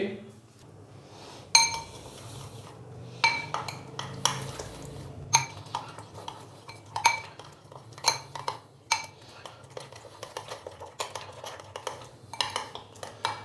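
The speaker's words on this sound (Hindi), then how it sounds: "अंडे डालने के बाद अब इसको अच्छे से मिक्स करेंगे।" Eggs and flour being beaten into tomato omelette batter in a bowl make rapid, irregular clinks of a utensil against the bowl, close and fairly quiet, with a voice speaking intermittently underneath.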